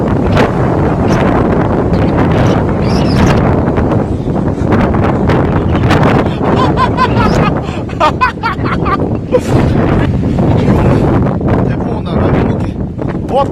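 Strong typhoon wind buffets the microphone in a loud, roaring, continuous rush with gusting surges throughout. A person's voice is heard briefly under the blast.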